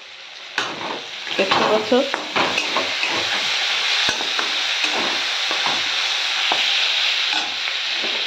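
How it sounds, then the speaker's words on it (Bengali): Bitter gourd (karela) pieces sizzle loudly as they fry in a pan, with repeated scraping and stirring strokes over the constant hiss and a few brief spoken words. "তিত করলা ভাজা করছি।"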